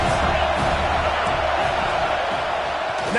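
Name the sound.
football stadium crowd noise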